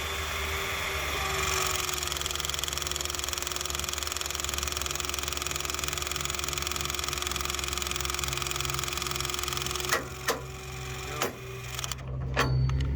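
A Milwaukee M18 Force Logic cordless knockout tool drones steadily under load while punching a 2-inch hole, a continuous motor hum lasting several seconds before a few sharp clicks and knocks as it finishes.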